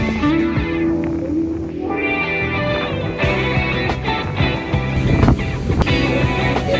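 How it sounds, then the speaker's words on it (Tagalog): Strong wind buffets the microphone on a sandy beach in Zambales, steady roaring gusts with a constant tonal hum, rising and falling in bursts without a break. "Sobrang hangin."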